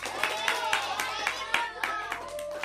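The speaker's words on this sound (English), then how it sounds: "Everyone, give him a round of applause." Rhythmic clapping at a school annual day event, about eight or nine sharp near claps in an even beat, with voices present underneath.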